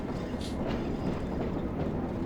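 Train running on rails in Train Sim World, driven backwards: a steady, loud rolling rumble with low wheel noise and faint clatter, continuous throughout with no talking.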